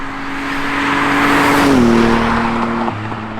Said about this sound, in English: we're on the road in the Supra, mate.